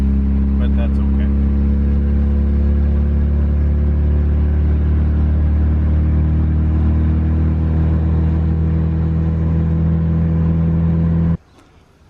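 A car drives through road traffic, a steady low engine and road rumble holding evenly close by for about eleven seconds before cutting off abruptly.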